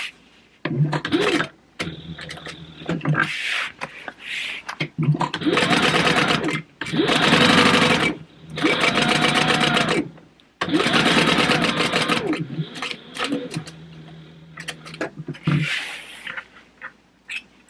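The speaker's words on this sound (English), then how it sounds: "We are going to stitch like right down the center of this 1/4 inch seam allowance." A sewing machine stitches a quarter-inch seam on a fabric bag in a series of loud, close bursts separated by short pauses, its rapid whir starting and stopping repeatedly.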